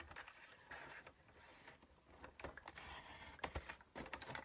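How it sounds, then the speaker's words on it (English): A paper trimmer cuts cardstock for a handmade gate fold card, giving faint, close mechanical scraping with small clicks and creaks as the blade slides along the cut. "I use my trimmer a lot so I can actually see where the cut line's going to be and get pretty darn close"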